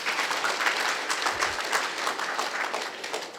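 Audience applause fills a talk hall, a dense sustained patter of many hands clapping at steady loudness for a few seconds with no speech over it.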